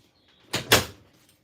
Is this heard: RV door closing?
yes